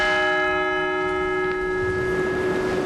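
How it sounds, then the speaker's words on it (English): A single memorial bell tolls for each victim of Flight 93 in Shanksville, one strong, ringing strike whose tone hangs and decays slowly over quiet outdoor ambience. "the bell will ring for each of the 40"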